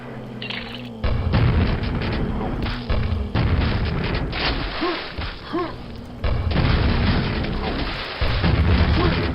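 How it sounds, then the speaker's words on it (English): Rocket launcher explosions in the video game Quake, a series of loud booming blasts and thuds over continuous game noise, close and heavy. "I have no rocket launcher besides this crappy Half-Life one. It does seem to do more damage"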